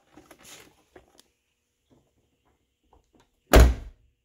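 A Lincoln Town Car door with a newly replaced striker bolt bushing shuts with one solid, close popping thud, after a few faint rustles and taps.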